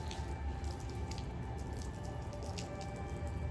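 Water drips and trickles while plants are being watered, giving soft, scattered splashes and squishy droplets over a quiet background hum.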